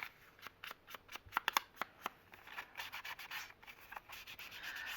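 Cut paper ephemera having its white edge inked, soft rubbing and scuffing strokes of an ink pad across paper, close and quiet, in quick uneven bursts.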